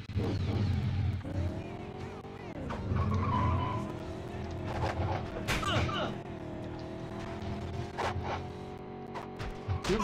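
Motorcycles race in the Nintendo 64 game Road Rash 64, engines whining and shifting pitch while tires squeal and skid in repeated bursts, with someone talking over the game sound.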